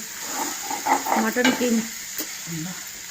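Mutton keema curry stirred in a pan with a spoon: close scraping and clinking strokes come in a short uneven burst over a soft sizzle, with no talking.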